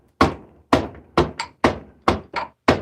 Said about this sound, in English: you gently bang up and down on the pump